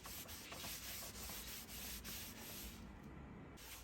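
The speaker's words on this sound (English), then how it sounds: "I'm just sanding it down the best I can" Wooden butcher block bed platform for a Sprinter van being sanded by hand, a steady close scratchy rubbing with rhythmic back-and-forth strokes that pauses briefly near the end.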